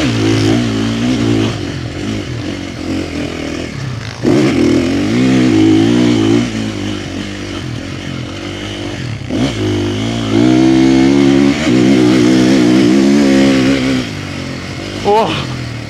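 A 450 motorcycle engine revving while riding, rising and falling bursts of throttle with a raspy mid-pitched note and clattering, loud and close over wind noise.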